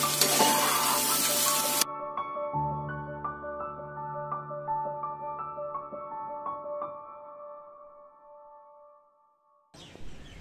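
Egg fried rice being stirred in a hot pan gives a loud, dense sizzle for the first couple of seconds, followed by a calm melodic tune, and the sizzling returns briefly at the end.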